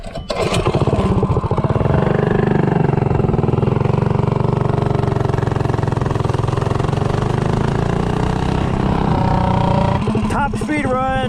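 A Predator 212 small engine with a standard-length VM22 intake revs hard and steadily on a top-speed run, a loud, close, sustained buzzing drone that holds nearly constant before a brief tail-off near the end.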